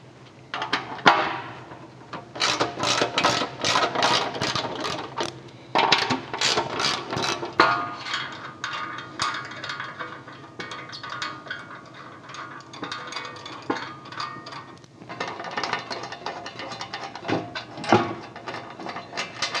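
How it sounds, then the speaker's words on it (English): A socket wrench ratchets off bolts on a Jeep JL Wrangler front bumper and skid plate, with quick bursts of close metallic clicking, repeated in short runs with pauses and some clanks of tool handling, no talking. "We're going to remove the 5 front bolts that go into the bumper with a T45 socket."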